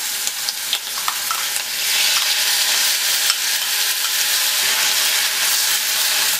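Onion paste frying with cardamom, cinnamon, grated ginger and turmeric for an egg curry: a loud, dense, continuous sizzle with hissing steam and a few stirring scrapes near the start.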